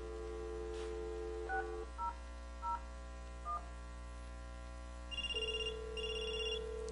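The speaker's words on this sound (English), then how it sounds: "we're going to use the SNOME phone to make the call" A Snom VoIP desk phone dials out over a steady dial tone with a few separate keypad tones. Then come two bursts of ringback tone, clear and close, with no voices.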